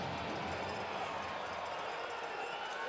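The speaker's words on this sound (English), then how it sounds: "Crowd coming alive inside Wells Fargo Center." Steady, dense roar of an arena football crowd at Wells Fargo Center in Philadelphia, Baltimore Brigade at Philadelphia Soul in 2017, a broad wash of cheering noise holding level throughout with no distinct breaks.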